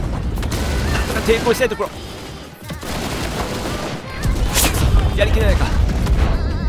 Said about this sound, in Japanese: 味方の砲撃ですね